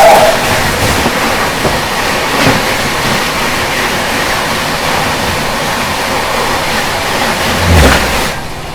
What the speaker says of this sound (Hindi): कुछ ही देर में क्रॉस होने वाली है शताब्दी एक्सप्रेस, अपनी मुंबई अहमदाबाद शताब्दी